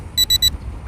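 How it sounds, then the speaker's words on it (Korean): Low-power alarm on an SG907 Max drone controller, sounding as three short, evenly spaced high-pitched electronic beeps close by, followed by quiet background. "이게 로우 파워 알람"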